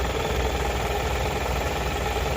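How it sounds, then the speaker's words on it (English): A Toyota Camry engine idles steadily under alternator load, a continuous low rumble with a slight knocking texture that stays constant and close throughout, with no talking. "It changes the sound of the engine, like something is drawing more power from it."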